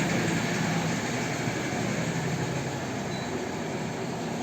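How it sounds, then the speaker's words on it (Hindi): A tractor passes by outside, a steady low engine rumble that holds throughout at moderate distance, heard alone without speech. "बाहर एक शायद ट्रैक्टर जा रहा है"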